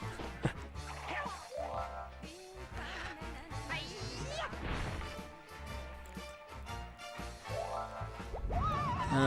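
Crashing and smashing effects from the Muppet Monster Adventure video game in Miss Piggy's mountain world, dense and busy over game music, with loud thuds and breaking bursts scattered throughout and animal-like roars mixed in.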